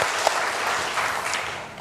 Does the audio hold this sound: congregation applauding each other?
yes